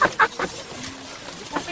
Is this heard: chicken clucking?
yes